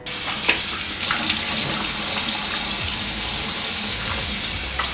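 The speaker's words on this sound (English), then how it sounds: "usually what I do after I shave my face, I usually rinse it first" Tap water runs steadily into a sink as a face is rinsed after shaving, a loud continuous splashing rush with a few small splashes, heard up close.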